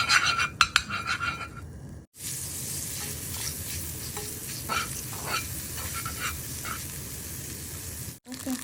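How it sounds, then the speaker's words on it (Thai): Butter melts and sizzles in a pan for roti, a soft, even hiss with a few utensil clinks near the start, close and steady, briefly broken by short gaps. "แต่จะมาตั้งกระทะนะคะเพื่อ ทำโรตี ใส่เนยลงไปค่ะ ให้เนยมันละลายนะคะ"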